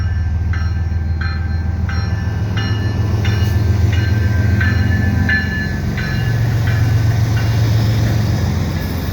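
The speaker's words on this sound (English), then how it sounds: "As soon as that train ends, this train comes." A CN freight train rolls past Dorval station in winter, loud and close, with a steady heavy rumble and a regular clickety-clack of wheels over rail joints repeating about every second throughout.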